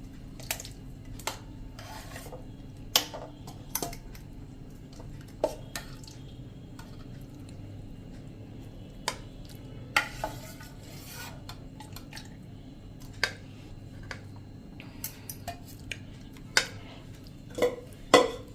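Cream (malai) being churned into butter by hand without a blender: soft wet scraping and rubbing with scattered sharp clicks and taps of a utensil against the container, irregular and close, over a low steady hum.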